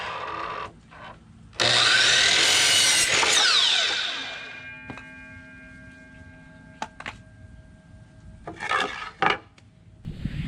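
Wood is cut for a bookshelf in a loud, close burst of sawing or rasping lasting about two seconds, then scattered knocks and short scraping bursts with quiet gaps, and no talking.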